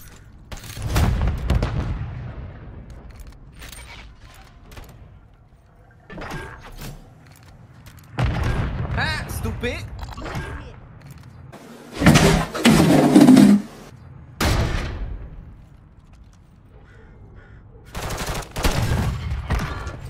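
Kar98 rifle gunshots in a video game, a handful of sharp reports spread across a mostly quiet stretch with background game noise and no talking.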